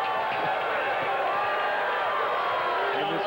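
A dense crowd at the 1996 AVP beach volleyball final in Santa Cruz roars and cheers continuously, a steady wash of distant voices with no clear individual speech.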